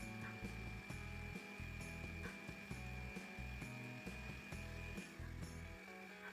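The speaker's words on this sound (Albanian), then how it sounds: "Dhe blenderi me vështirësi i rrotullon." A blender labors through a thick, sugar-free vegan ice cream mixture with orange, its loud motor grinding steadily with a strained, stuttering rhythm and no talking.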